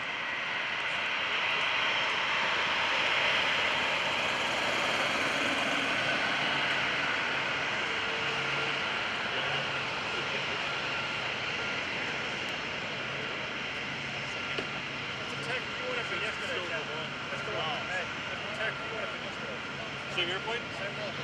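A KC-135R Stratotanker flies past at an airshow, its jet engines giving a broad, loud roar that swells early and then fades slowly into a distant rumble as crowd voices murmur underneath.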